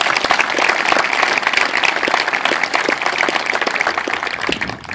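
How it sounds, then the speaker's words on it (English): Audience at a Memorial Day event applauding a young band and chorus after their performance, a loud, dense, steady crowd clapping that carries on evenly and tapers off at the very end. "Please join me in applause for their performance today."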